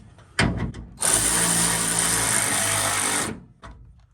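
A power tool tightens a bolt on a support bracket of a Ford Bronco tailgate, with a few sharp clicks before one loud, sustained whirring run of about two seconds, close by, followed by a brief clack.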